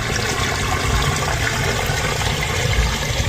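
Loud, continuous rushing of water gushing from a spring out of dug-up ground, a close, steady churning roar with no voices over it.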